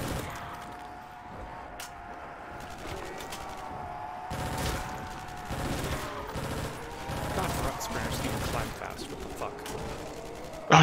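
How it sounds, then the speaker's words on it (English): Sustained machine gun fire in Call of Duty: World at War custom zombies on the TMG Castle map, rapid bursts running through the clip under game sounds and players talking. "Cause I got a big old machine gun."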